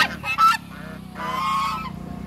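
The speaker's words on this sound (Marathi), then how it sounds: "हे बघा बदकं, ह्याच्यामध्ये एक बदक आहे" Ducks at an agro resort give loud, nasal honking calls nearby: a few quick squawks at the start, then one longer drawn-out call, with no talking during the cries.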